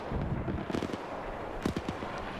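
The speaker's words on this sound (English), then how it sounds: "Another explosion going on in this tower." Explosion inside a tower in a WW2 video game, heard as a short cluster of sharp, crackling blasts at middle distance, two bursts of bangs within a couple of seconds, with no talking.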